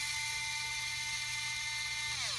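A power tool whirs steadily at high pitch while loosening the screws on a detailer, a continuous buzzing drone that winds down in pitch at the end.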